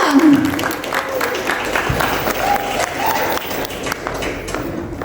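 An audience applauds after a school theatre performance, a dense spread of claps and crowd noise with a voice speaking over it, fading slightly toward the end.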